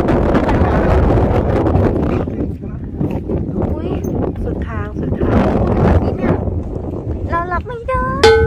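Strong wind by the sea buffets the microphone in a steady loud roar, with people talking over it and a few bird-like chirps near the end.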